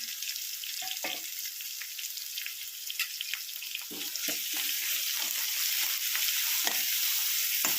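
A thick ground paste of coconut, coriander, ginger, garlic, cinnamon and cloves sizzles and spatters in a hot pan while a spoon stirs it in irregular scrapes; no talking.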